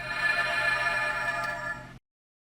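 A Playmates Star Trek: The Next Generation Captain Picard toy transporter plays its electronic effect, a steady shimmering tone that holds for about two seconds and then cuts off abruptly.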